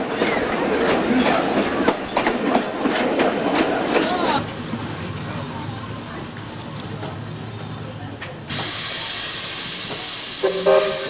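A steam train runs on the Zig-zag railway, with a rumbling, hissing roar, some squealing wheels and a sharper hiss that cuts in toward the end, under faint talk.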